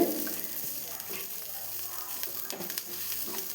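Onions and other vegetables for egg podimas sauté in a pan with a steady low sizzle and occasional scraping stir strokes, close by and continuous without talk.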